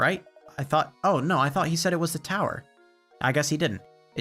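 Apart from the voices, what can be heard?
No distinct noise like a dog, phone or traffic.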